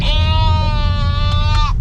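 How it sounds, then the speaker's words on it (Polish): A sheep bought at a village farm gives a single loud, close bleat with a long, wavering, strongly harmonic tone lasting nearly two seconds. "no i kupiliśmy owieczkę"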